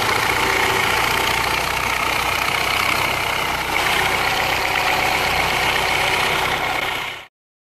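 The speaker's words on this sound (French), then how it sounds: "de nombreux clients ont rapporté des bruits de crécelle en provenance du moteur" A Peugeot THP petrol engine running at startup, with a rattle from a worn timing chain caused by a failing hydraulic tensioner: a steady, loud mechanical idle with a bright metallic clatter that continues evenly before cutting off abruptly.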